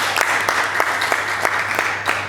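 A church congregation claps for God during a sermon in a hall, a steady run of sharp, fairly close hand claps with a low hum underneath.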